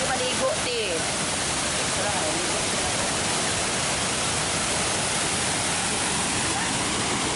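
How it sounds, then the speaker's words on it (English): Chinayan Falls, a 55-meter waterfall in the Philippines, roars as a steady, loud, broadband wash of falling water that fills the whole clip without a break. "It is a big waterfall. I believe it's 55 meters tall."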